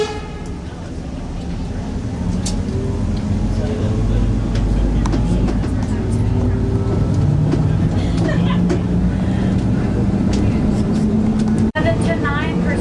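A hill-climbing train built for grades of 25% or more rumbles along the tracks with a steady low roar, rattles and squeaks, and brief horn-like toots, as people talk over it throughout.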